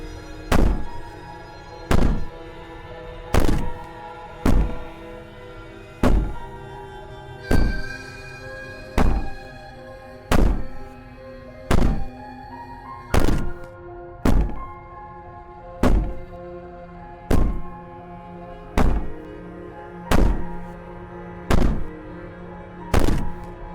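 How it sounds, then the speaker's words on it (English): Banging on a door in the video game Slay the Princess, where a princess pounds and wails. Heavy thuds fall at a steady, even pace, well over a dozen in a row, with faint drawn-out tones lingering between the blows. "Maybe the banging and wailing will stop if you just don't pay attention to it."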